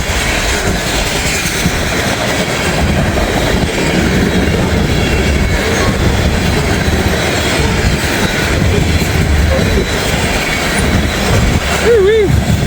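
A long freight train of full tank cars and grain cars rolls steadily past close by, with a loud continuous rumble and clatter of wheels on rail, and brief squeals and a faint horn-like tone near the end.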